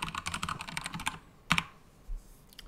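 Rapid, close clicking of computer keyboard keys as code is typed, a dense burst that pauses, then a few isolated keystrokes.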